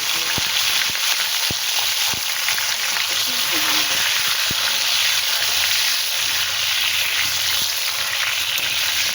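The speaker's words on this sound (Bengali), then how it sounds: "এইবারে বেগুনগুলো ভেজে নেব।" Eggplant pieces fry in hot oil with a steady, close sizzle and a few sharp spatters and utensil clicks, no talking.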